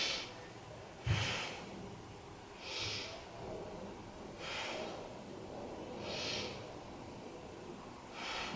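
Slow, deep breaths held during a beginner yoga pose, each soft airy inhale and exhale rising and falling at an even, unhurried pace, close but quiet over faint background hiss.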